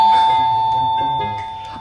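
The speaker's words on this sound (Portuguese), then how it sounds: "pra despertar a gente pode tocar a campainha" A Magic Mixies genie lamp toy sounds its doorbell chime loudly and close up, a sustained bright electronic tone that slowly fades over about two seconds, with faint voice-like murmurs in the background.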